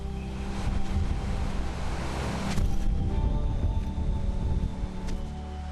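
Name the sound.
sea waves lapping against a basalt sea cave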